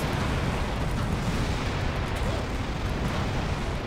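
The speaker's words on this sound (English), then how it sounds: "Because I got a rocket launcher." Rocket launcher blasts in the first-person shooter Serious Sam, a dense, continuous rumble of heavy booming explosions with no pauses, loud and close throughout.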